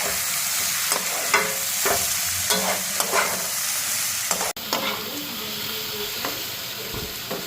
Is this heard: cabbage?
yes